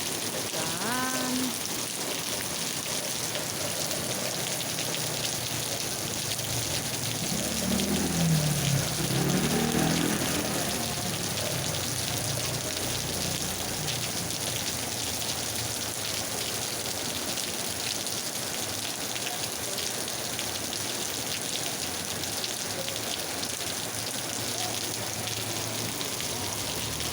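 Steady rain pours down outside by a balcony, a dense continuous hiss of drops hitting surfaces nearby, with a brief faint voice partway through.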